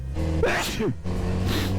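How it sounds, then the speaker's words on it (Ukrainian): A person riding a motorcycle lets out a single sharp sneeze, loud and close to the microphone, with a steady engine and wind rumble running underneath. "небезпечно, не закриваєш очі під час чиху"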